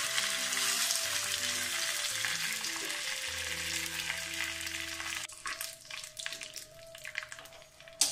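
Fenugreek seeds, red chilies and curry leaves sizzle in hot oil for a ripe mango curry, making a loud continuous crackling fry that thins into sparser pops toward the end, with no speech.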